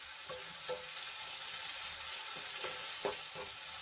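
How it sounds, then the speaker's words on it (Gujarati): Onions sauté in oil until golden brown, a continuous soft sizzle with scattered crackles and a few light stirring scrapes, close and steady with no talking. "અને સરસ રીતે આપણે એને તેલમાં મિક્સ કરી લઈશું અને ગોલ્ડન બ્રાઉન થાય ત્યાં સુધી આપણે એને સાંતળી લેવાની છે"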